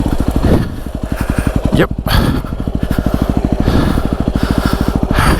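Yamaha WR250R dirt bike engine running steadily after being restarted following a fall in mud at Prairie City SVRA, a close, loud, rapid pulsing thump with a brief dip mid-way, with a short spoken word over it.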